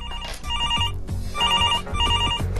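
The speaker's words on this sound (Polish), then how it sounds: "To jest sygnał telefonu od przyjaciela." A telephone rings as the phone-a-friend signal on a Polish TV game show, a repeating electronic ring in bursts over a low backing tone, clear and fairly loud.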